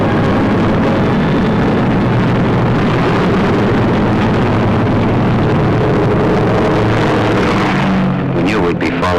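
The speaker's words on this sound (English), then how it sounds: "we heard the roar of engines as the Pathfinder ships began hopping off" Aircraft engines roar as Pathfinder planes take off, a loud, steady broadband drone that holds for about eight seconds and then breaks up into sputtering, fluttering bursts near the end.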